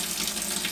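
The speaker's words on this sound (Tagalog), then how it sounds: "Pag open nyo, siyempre lalabas yung tubig." Water runs from a kitchen faucet fitted with a water purifier switch, a brief, steady close-up gush with no voices.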